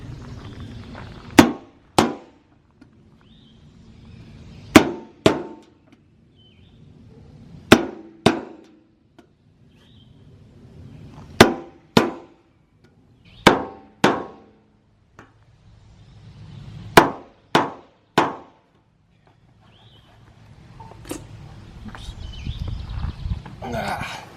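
Sharp metallic punching strikes from dimpling metal garage siding sheets, in pairs and small clusters, loud and close, separated by quiet pauses over a low background rumble.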